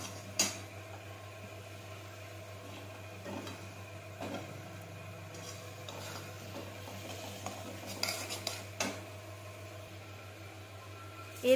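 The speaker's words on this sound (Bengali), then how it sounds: "আর আমি দিয়েছি হলুদ গুঁড়ো, জিরে গুঁড়ো, ধনে গুঁড়ো আর অল্প পরিমাণ লঙ্কার গুঁড়ো দিয়ে ভালো করে কষিয়ে নিতে হবে" Dry ground turmeric, cumin, coriander and chili powder scraped and stirred in a pan for a Bengali egg tarka, with faint scattered utensil scrapes and taps over a steady low hum, quiet and without voices.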